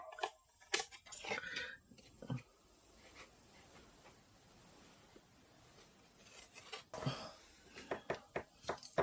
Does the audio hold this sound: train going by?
no